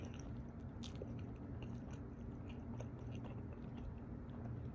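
Soft, steady chewing of food dipped in syrup, close and continuous with faint moist crunches throughout, no talking.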